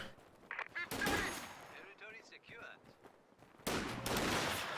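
Sniper rifle shots in a video game crack out as a few sharp, loud bursts with noisy tails, separated by quieter stretches of game sound and faint voices.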